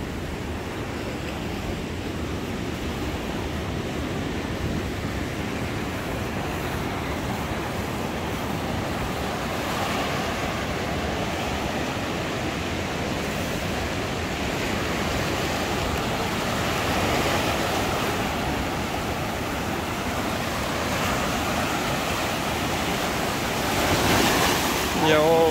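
Ocean surf rolls steadily onto Patar Beach in Bolinao, Pangasinan, a continuous wash of breaking waves with wind buffeting the microphone, building slightly louder near the end.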